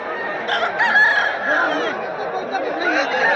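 Roosters crow and cluck at a crowded three-day cockfighting fair at Kusumdanga, calls overlapping close by amid a busy background of chatter.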